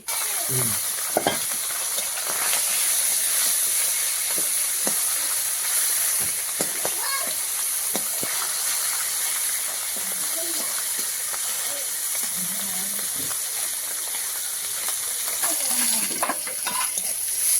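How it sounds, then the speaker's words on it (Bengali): Onions frying in oil keep up a steady close sizzle and hiss with occasional stirring sounds, while someone talks quietly over parts of it. "তেলে পেঁয়াজ কষে দিয়ে দিলাম"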